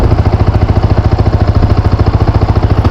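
A Yamaha MT 15 motorcycle engine runs close and loud with a fast, even, pulsing idle rhythm throughout.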